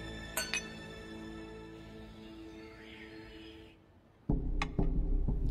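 Family glasses clinking in a birthday toast, a few bright clinks at the start, a quieter stretch, then a louder burst of chimes and clinks at the end.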